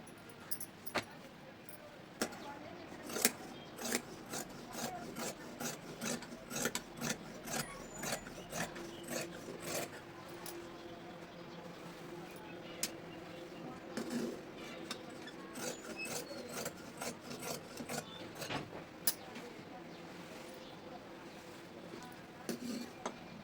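Scissors snip through dress fabric in a steady run of close, sharp cuts with faint rasping between them, continuing for a long stretch without speech.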